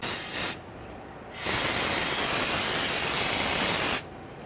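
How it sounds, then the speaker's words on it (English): A loud, steady hiss of aerosol solvent sprayed on brake hose joints of a 1994-2004 Jeep Grand Cherokee, one short burst followed by a longer continuous blast of about two and a half seconds. "Now we're going to spray down all of our joints here with some solvent and check for any leaks."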